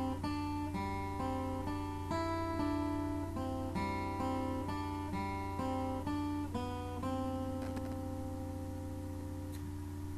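A keyboard plays a piano and strings chord part for the worship song Happy Day, steady sustained chords changing in a regular rhythm with a melodic line on top, clear and alone with no talking.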